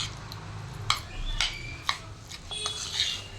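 A spoon mixes mashed avocado pieces in a bowl for avocado toast. Sharp metallic clinks and scrapes ring out against the bowl in an uneven rhythm, close and fairly clear, with no talking.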